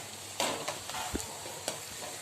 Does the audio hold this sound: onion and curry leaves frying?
yes